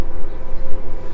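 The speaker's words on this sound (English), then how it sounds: "Amtrak that's going by." An Amtrak passenger train going by, heard as a steady, broad rumbling wash without any voices.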